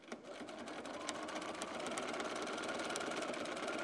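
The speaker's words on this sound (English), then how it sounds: "I'm going to stitch this gentle curvy stitch line that I did here" Sewing machine stitching a gentle curved line, a close, steady fast mechanical whirr with rapid needle ticking, continuous and alone.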